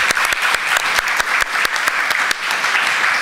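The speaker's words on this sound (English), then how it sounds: "I'd like a great round of applause to both yourselves and the panelists." Audience at an internet governance forum workshop on online anonymity claps for the panelists, a dense, steady round of many hands with sharp individual claps standing out, sustained and fairly loud throughout.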